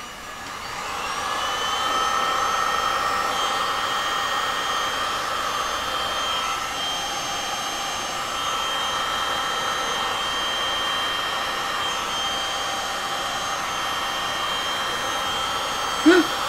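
A heat tool blows over alcohol inks on a cradle board with a steady, close, airy whir like a hair dryer, holding constant for the whole stretch and ending with a brief knock.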